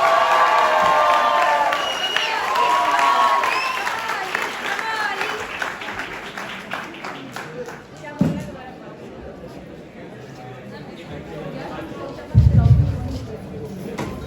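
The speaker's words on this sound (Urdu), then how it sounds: "آپ کی بھرپور تالیوں سے میں انوائٹ کرتا ہوں جناب افتخار احمد عثمانی صاحب" University audience in Lahore applauding a guest, a sustained wash of clapping and crowd noise with a host's voice over it, fading into scattered claps and a short loud burst near the end.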